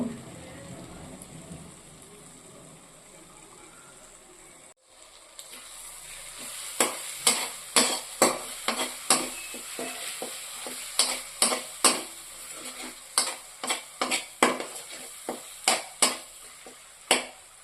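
After a quiet start, ghee sizzles in a pan for a spinach prawn curry, then a spatula strikes and scrapes the pan in repeated sharp clanks over a steady frying hiss.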